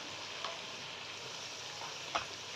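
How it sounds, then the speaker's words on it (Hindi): Spice masala of turmeric, salt, chili flakes and dry coriander powder frying in a pan with a splash of water for mash dal, a steady soft sizzle with a couple of brief stirring clicks. "थोड़ा सा पानी डाल के अच्छे से भून लेंगे।"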